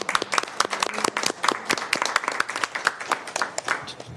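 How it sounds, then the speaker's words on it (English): A small group at a Sacramento Environmental Commission meeting claps in a brief, dense round of applause, with sharp individual hand claps close and clear throughout. "I would like to start a round of applause for Jill Kane, our commission staff secretary."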